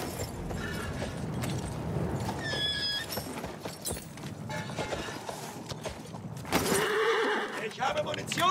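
A horse whinnies amid clattering hooves and mechanical noise in the video game Battlefield, with someone shouting over the commotion.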